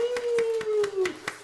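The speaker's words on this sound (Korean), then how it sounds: "박수" A church congregation claps in a steady rhythm, about six sharp beats in a row, with a sustained hum or voice beneath them.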